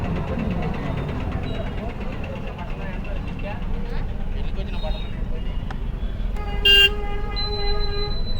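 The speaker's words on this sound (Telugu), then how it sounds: "ట్రాఫిక్ అయితే అసలు చాలా ఉంది" Busy road traffic by the Maisamma temple at Nainonipally, Nagarkurnool, crowded with vehicles: a steady engine rumble with repeated car horn toots, one louder honk near the end, under ongoing chatter of people.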